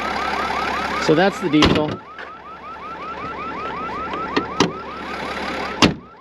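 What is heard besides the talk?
car alarm going off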